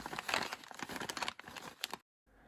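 Paper eco-friendly packaging bags crinkle and rustle close up in dense, continuous crackling bursts for about two seconds before the sound cuts to near silence.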